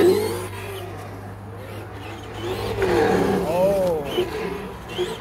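A sound module in a Traxxas 2WD RC car plays an engine rumble that rises and falls with revving swells, close and moderately loud, while people talk over it.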